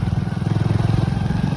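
A motorcycle engine runs with a steady, close low putter throughout, its pulses rhythmic and continuous while the bike is ridden.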